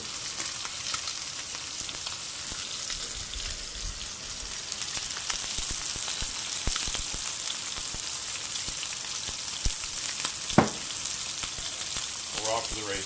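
Steady, close frying sizzle of broccoli and new potatoes seasoned with turmeric and black pepper in an oiled pan, a dense crackling hiss throughout with occasional stirring clicks and scrapes, no talking.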